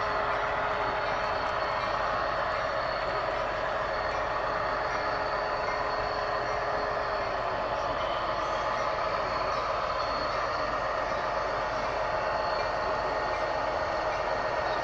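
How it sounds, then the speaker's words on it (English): Model train locomotive running on a small loft layout, a steady mechanical hum with constant whine and rumble throughout, close and unbroken. "that locomotive's not having a good time, is it?"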